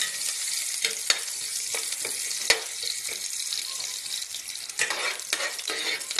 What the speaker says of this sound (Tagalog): Dito po sa ating kaldero is tayo po ay maggigisa na mga boss.